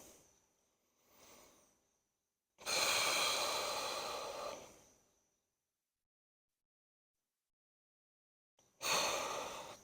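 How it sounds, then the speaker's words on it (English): Deep breaths during an easy morning warm-up: a faint inhale, then a long loud exhale lasting about two seconds, silence, and another strong breath starting at the end, close to the microphone. "Two more big breaths."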